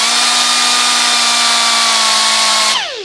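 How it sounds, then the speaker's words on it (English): Die grinder whining at high speed while turning down a screw chucked in a spinning drill, a steady loud grinding tone throughout before spinning down and fading in the last moment. "my go-to is my die grinder, and just run my die grinder on them"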